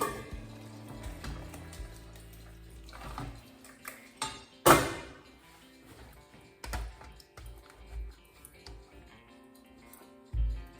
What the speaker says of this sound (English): I'm gonna give my meat mixture another stir.